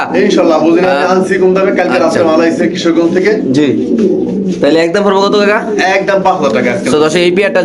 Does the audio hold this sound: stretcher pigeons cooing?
yes